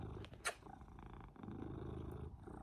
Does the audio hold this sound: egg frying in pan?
no